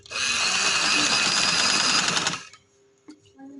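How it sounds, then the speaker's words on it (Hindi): A sewing machine runs steadily for about two and a half seconds while stitching along the edge of fabric with joining lace, loud and close, then stops, leaving faint handling noises. "ये किनारे किनारे के ऊपर सिलाई लगेगी मेरी, इसके ऊपर ऐसे।"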